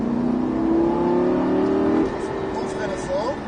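A Lamborghini Gallardo LP 560 accelerating on a race track in Perpignan, its engine note rising steadily for about two seconds before easing off, heard from close inside the car with people talking over it.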